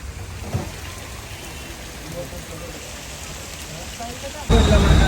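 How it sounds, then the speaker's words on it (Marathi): Rain patters steadily on the outside of a parked car, a dense hiss heard from inside the cabin, growing suddenly louder and heavier in the last second. "पाऊस चालू आहे बरोबर."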